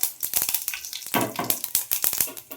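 Cumin, mustard seeds and curry leaves sputtering in hot oil for a simple okra stir-fry, a quick run of sharp popping crackles and sizzling bursts, close and lively.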